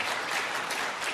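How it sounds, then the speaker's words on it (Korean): A church congregation claps in encouragement during a Sunday worship service, a short burst of dense, even applause at full strength from start to finish. "한번 격려의 박수 보내주시기 바랍니다."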